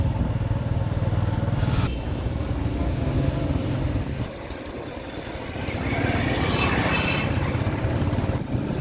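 A motorcycle rides along a city street in fine weather, its engine a steady close hum mixed with rushing wind noise that dips briefly midway and then swells again.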